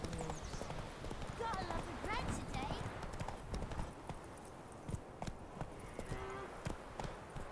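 Horse hooves clip-clop steadily on the ground in The Witcher 3, a close rhythmic trot that continues under game dialogue and ambient noise.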